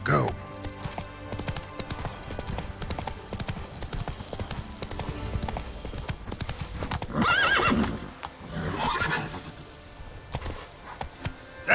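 Roach the horse gallops in The Witcher 3: Wild Hunt, Blood and Wine, with steady rapid hoofbeats under game music and effects, then a loud whinny partway through, and a voice briefly calls out.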